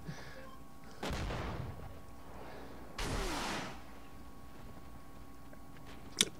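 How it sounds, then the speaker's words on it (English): Gunfire in an online shooter game where the player drives an M1134 vehicle, with two separate muffled blasts of roughly half a second each and a sharp brief click near the end, quiet and distant. "someone else is shooting at me."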